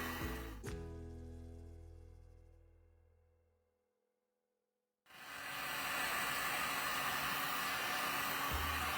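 A heat gun warms a strip of bendable wood, roaring loudly, winding down to silence and then blasting back on at full strength.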